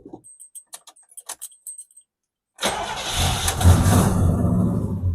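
A 1977 El Camino that sat for 10 years cranks with keys rattling and clicks, then after a short pause its engine catches and roars loudly to life, running rough and steady close by.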